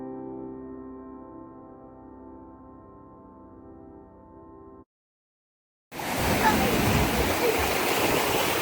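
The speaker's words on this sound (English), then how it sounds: "The ocean." Ocean water rushes loudly and continuously, a dense close roar of surf that begins abruptly after a stretch of steady tonal music and a brief silence.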